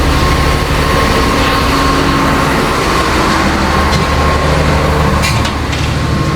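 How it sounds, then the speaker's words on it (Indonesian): A generator set runs inside a 1994 economy passenger car on the Putri Deli train in Indonesia, a loud continuous low drone with steady rumble and a few brief clicks. "di sini ada genset atau pembangkit kelistrikan di dalam kereta seperti ini"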